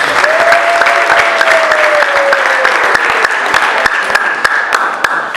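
Sustained applause from a seated church audience at an ADEPR Mbandazi choir anniversary concert, with a steady wash of clapping and a few sharper claps standing out, continuous and loud throughout.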